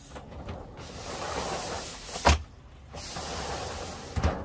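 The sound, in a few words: sliding shower door opening and closing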